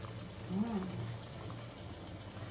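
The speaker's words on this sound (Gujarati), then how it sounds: "પાણી ફૂલ ઉકળી ગઈશ કા." Water coming to a full boil in a pot used for steaming bottle gourd dhokla, a faint low bubbling rumble over a steady background hum, with a brief voice-like tone early on.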